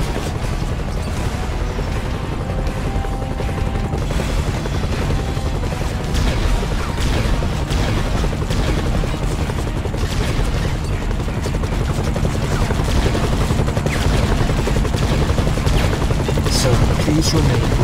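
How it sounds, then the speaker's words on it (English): A Stark gunship flies and fires in the Iron Man game, a loud steady rotor and engine roar layered with rapid gunfire bursts and booms, sustained for the whole stretch. "Stark gunship launch detected near Hangar 3, sir."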